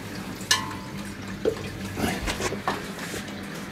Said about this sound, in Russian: Вот, пошла водичка уже чистая